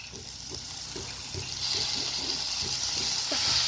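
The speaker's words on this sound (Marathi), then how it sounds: "छान असा आपल्याला हा टोमॅटो परतून घ्यायचा आहे" Tomatoes and cowpeas sauté together in a pan, making a steady close-up sizzle with soft, rhythmic scraping and stirring strokes that grow slightly louder toward the end.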